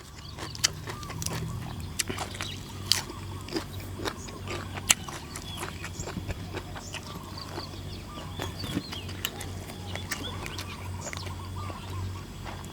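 Someone close by chews a crunchy herbal fish soup at breakfast, giving a quick, irregular run of sharp crunching bites over a low, steady background hum.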